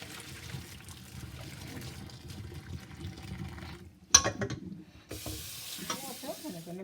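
Water is poured and sloshes out of a cooking pot after soaking codfish, with a sharp clank partway through and a burst of splashing toward the end.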